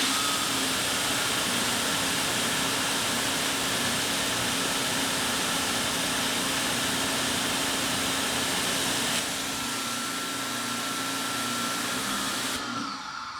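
Greenworks 1800 psi electric pressure washer spraying through a Ryobi nozzle, a loud steady close motor hum and water hiss that shifts slightly in tone near the end, with no talk over it.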